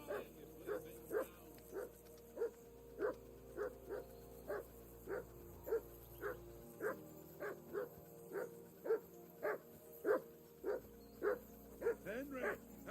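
A dog in Kingdom Come Deliverance 2 barks steadily and repeatedly in the medieval game world, about twenty evenly spaced barks at moderate distance against a quiet background hum, with no talk.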